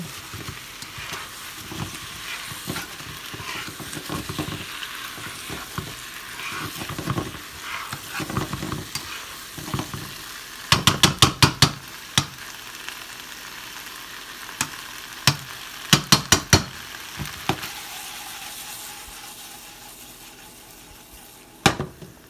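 Pesto stirred through food in a sizzling frying pan, a steady crackle of frying with scraping spoon strokes against the pan and several sharp clatters of utensil on metal.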